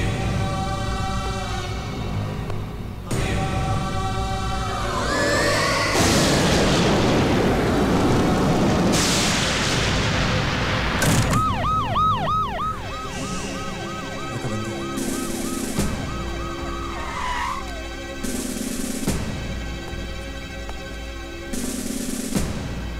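Wailing ambulance siren on an emergency vehicle in a horror film scene, rising and falling loudly over rumbling low noise and a booming burst, with repeated sweeping tones in the middle.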